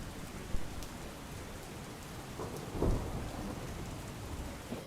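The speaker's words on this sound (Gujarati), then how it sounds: "અત્યારે તો વધુ એક વખત વરસાદ શરૂ થયો છે" Steady rain pours down during a storm in Bavla near Ahmedabad, a dense continuous hiss of drops with a few sharp knocks and a louder rumbling swell near the middle, no voices.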